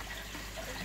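Water carrying daphnia poured into a fine micron net, a soft steady splashing trickle heard up close and quiet, with no talking.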